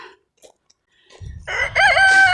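A farm rooster crows loudly and clearly, its rising, held call ringing out over a background of clucking chickens, following a few faint quiet sounds at the start.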